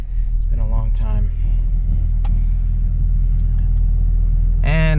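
A Camaro ZL1 1LE pulling away after six months of storage, a deep steady engine drone heard from inside the car, with someone speaking briefly at the start and end.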